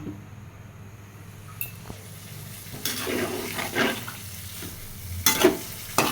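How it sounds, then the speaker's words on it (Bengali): Water poured into a hot pan of potatoes and vegetable stems for a curry, a sputtering hiss with bursts of sizzle and splashing that grow louder toward the end, over a low steady hum. "এবারের এর ভিতরে আমি ঝোলের জন্য জল দিয়ে দিলাম"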